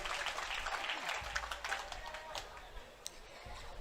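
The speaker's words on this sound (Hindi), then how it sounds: "भाई एक बार तालियां तो बजा दो" Audience applause at a Hindi comic poetry gathering (hasya kavi sammelan), a steady crackle of clapping from a crowd filling the clip with a voice breaking through.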